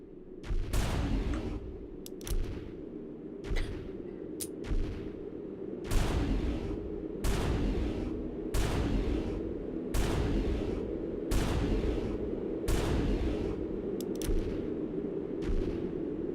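Heavy gunshots from the video game Shadow Tower: Abyss fire at a steady rhythm about once a second, each blast loud and sharp over a low rumbling game background, with no talking.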